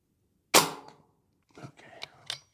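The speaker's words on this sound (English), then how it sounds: "We'll shoot one more set of pellets" A Brocock Bantam Sniper HR .25 air rifle fires a pellet outdoors with one sharp, loud crack, followed by a pause and then a few softer clicks and knocks of handling.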